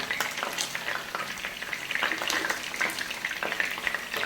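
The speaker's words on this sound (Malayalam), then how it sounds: "ഫ്രൈ ആയിട്ടുണ്ട് നമുക്കിത് കോരിയെടുക്കാം" Chilli chicken sizzles and crackles as it fries in hot oil, with scraping stir strokes from a utensil in the pan, close and continuous with no talking.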